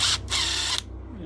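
A T20 Torx driver backs out a screw on a Homelite Mighty Lite leaf blower, giving two short close mechanical whirring bursts separated by a brief gap, then falling quiet.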